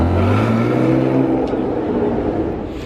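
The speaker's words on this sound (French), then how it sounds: "Le démarreur des V12, c'est quelque chose." A V12 Aston Martin Vanquish Zagato firing up in Monaco, with a loud, close starter whir and catch that settles into a deep, steady engine rumble before fading slightly at the end.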